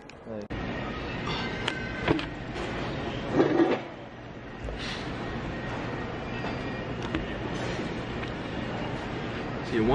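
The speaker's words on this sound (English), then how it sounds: "Train goes to all terminals." An airport terminal shuttle train rumbles along with rattling and clunking, its hum steady beneath occasional thumps, while people talk nearby.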